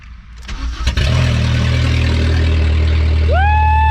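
A junkyard VW Golf 3 fires up with its exhaust open right after the catalytic converter: a short cranking, then a loud, raw, rasping idle close by, with a faint whine entering near the end.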